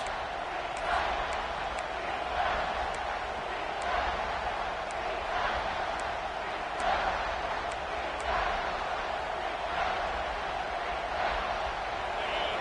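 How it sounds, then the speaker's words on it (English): A football stadium crowd roars to support the defense in the red zone, a distant steady wash of cheering with faint rhythmic swells and light ticking, under low-level talk. "the crowd coming to life here, trying to help this defense down in the red zone"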